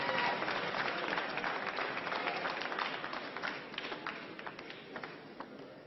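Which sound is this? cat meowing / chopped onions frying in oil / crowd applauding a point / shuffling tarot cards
crowd applauding a point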